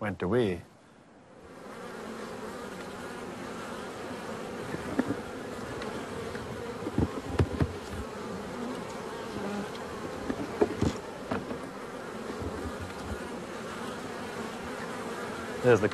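Honeybees swarm at a beehive, a continuous close buzzing hum with occasional louder passes of individual bees and brief faint touches of sound, no talking.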